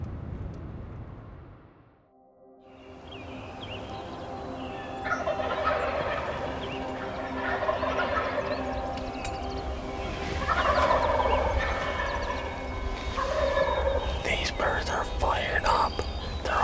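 Wild turkeys gobble in Ontario, several birds calling from a distance across a big group over a steady outdoor background, with faint low voices under the calls.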